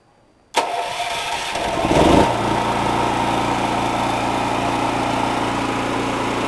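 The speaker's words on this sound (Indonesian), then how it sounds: "Saat genset telah on" A standby generator set, demonstrated with an automatic transfer switch during a simulated mains power outage, cranks and starts abruptly after brief silence, then settles into a steady, loud running drone with no talking.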